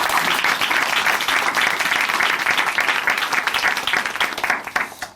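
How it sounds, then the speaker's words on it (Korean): A church audience gives loud, sustained applause for a woman who has shared her testimony. Dense clapping fills the room and tapers off near the end. "다시 한번 귀한 간증 들려주신 박숙례 자매님께 큰 박수 보내드릴게요"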